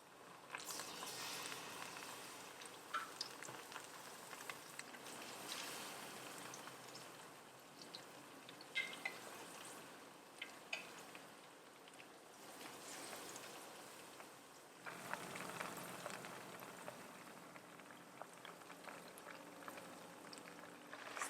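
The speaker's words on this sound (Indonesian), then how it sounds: "Sekarang kita goreng hingga ayamnya garing kecoklatan." Steady crackling sizzle of chicken frying in hot oil, continuous and fairly close, with a brief dip and swell midway through.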